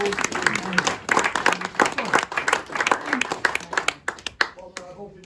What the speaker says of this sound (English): So round of applause for Artful Dodger, Bumbleball, and